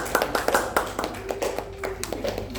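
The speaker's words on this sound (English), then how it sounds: "give applause to Diva." Classroom applause during a microteaching lesson: a short burst of many hands clapping unevenly in a room, fairly close and moderately loud, with no talk over it.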